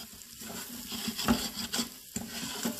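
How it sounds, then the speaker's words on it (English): Chili, turmeric, salt and garam masala frying in an Instant Pot for butter chicken, a soft continuous sizzle broken by a few spoon scrapes and taps against the pot, close and without talk. "Now fry the spices for next 1 minute."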